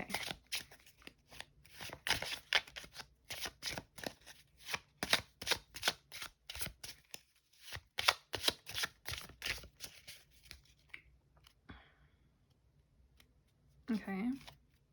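Tarot cards shuffled in a VR murder-mystery game give a fast, crisp run of riffling flicks, close and steady, pausing briefly before a few more, with a voice speaking over parts of it.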